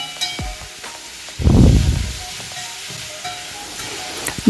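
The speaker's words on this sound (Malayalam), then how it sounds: "തക്കാളി ചേർത്തു എല്ലാം കൂടി നന്നായിട്ടൊന്ന് ഇളക്കുക ഒന്ന് വഴന്ന് കിട്ടട്ടെ" Onion and tomato are stirred as they sauté in a pan, giving a soft sizzle and a burst of hissing and scraping after a quiet opening. The sound is close and moderately loud, with occasional utensil clinks.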